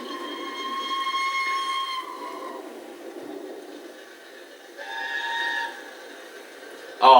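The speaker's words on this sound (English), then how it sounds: "the A4 whistles sounded so good" Steam whistle of an LNER A4 locomotive, a sustained chime blast lasting over two seconds, then a second shorter blast, loud and clear over a faint hissing background with a sharp burst at the end.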